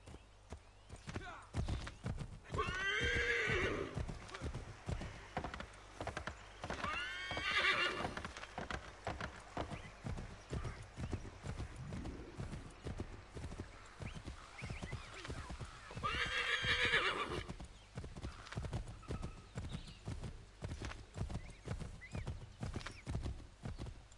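Horse hooves clip-clop in a steady galloping rhythm in the Assassin's Creed 3 video game, broken by three loud neighs and whinnies, close and clear, with a little faint talk mixed in.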